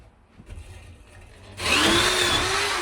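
A steel wire brush on a power tool whirs up suddenly after a quiet lead-in, starting loud and close with a rising whine and a harsh, steady bristly rasp that holds to the end.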